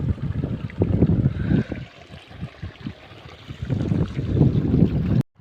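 Water runs through a field irrigation line in a steady rushing, gurgling flow up close, rising and easing in strength before stopping abruptly at the end.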